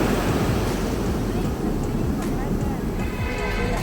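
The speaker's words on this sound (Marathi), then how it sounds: "ही बंगालची खाडी आहे. पाऊस पण पडतोय." Bay of Bengal surf breaks in the rain as a loud, continuous wash of waves under heavy wind buffeting the microphone, with a voice talking over it.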